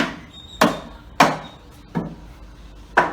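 Wooden piece tapped into place while building a wooden hand-washing sink: four sharp, evenly spaced knocks about half a second apart, close and fairly loud, with no voices.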